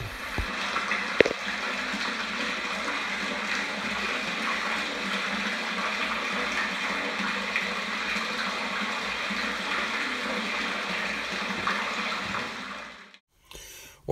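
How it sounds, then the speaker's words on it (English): Well water gushes steadily into a 1,000-gallon storage tank, a loud continuous rushing pour that holds for about thirteen seconds before cutting off abruptly near the end. "this is the well water coming in"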